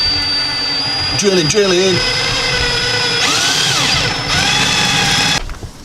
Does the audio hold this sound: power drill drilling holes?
yes